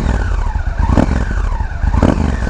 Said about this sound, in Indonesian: Knalpot standar palsu, dengerin nih.